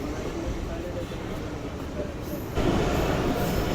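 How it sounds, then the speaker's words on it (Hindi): The Jaffer Express, hauled by a Chinese-built locomotive, speeds up onto the Jhelum bridge: a loud, steady rumble and rattle of carriages heard from on board that rises and brightens as the train crosses, with someone talking over it. "सारी एक्सलेशन जो है ट्रेन की वो इस झेलम ब्रिज के ऊपर ही होगी"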